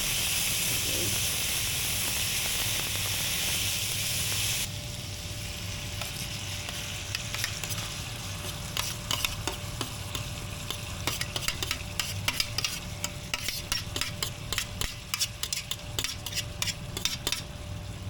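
Japanese ginger pork (shōgayaki) in a pan on a home stove, a steady loud sizzle that drops to a softer simmer with scattered pops and crackles.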